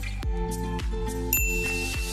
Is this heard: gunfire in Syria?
no